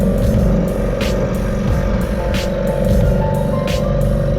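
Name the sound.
small petrol engine revving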